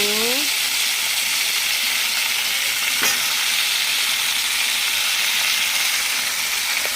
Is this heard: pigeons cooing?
no